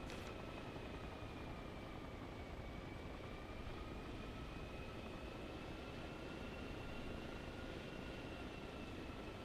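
Helicopter landing in Arma Reforger, a constant, fairly quiet rotor and turbine drone with a steady high whine on top and no voices.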